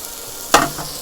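Lamb chops and chuck eye roll steak on a grill give a sudden burst of sizzling, a loud close hiss that flares once and fades quickly.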